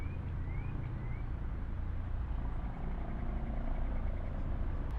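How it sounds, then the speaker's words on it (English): Helicopter circling overhead outside above traffic during a police search, a steady low rotor drone that fills the background continuously and evenly, moderately loud and distant. "I hope y'all can hear me over this helicopter in the traffic"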